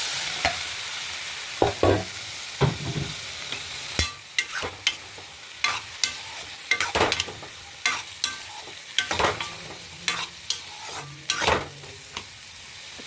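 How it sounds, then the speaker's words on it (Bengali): Popcorn being fried and stirred in oily spice masala in a pan, with repeated sharp scraping and clattering stir strokes over a continuous sizzle, close and fairly loud. "একটু কষিয়ে নিয়ে তারপরে জল দিয়ে দেবো। এখন দেখো ভাজা ভাজা হয়ে গেছে"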